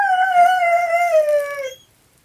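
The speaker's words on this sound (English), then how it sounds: "That's my dog sleeping and dreaming." A sleeping, dreaming dog lets out a single drawn-out, whimpering howl lasting about two seconds, loud and close, which wavers slightly before trailing off into silence.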